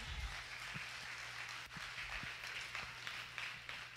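Scattered clapping from a church congregation during a Sunday service, faint and distant over a low steady hum, with a few sharper individual claps standing out.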